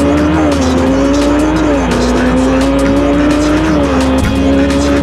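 A Ferrari in a mobile racing video game runs flat out with a loud, sustained engine whine that rises and dips slightly as it shifts. Tire squeals and skids cut in over the constant roar.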